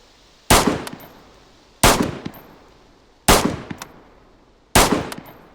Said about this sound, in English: That was the SKS that you just heard right there.